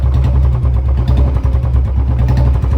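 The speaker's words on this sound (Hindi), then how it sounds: "देख लो नए जैसा इंजन बन गया बिल्कुल ही, टोटली" A Royal Enfield Bullet 350 engine idles after a tick-sound repair, a loud, close, steady low thumping beat with an even rhythm and no ticking evident.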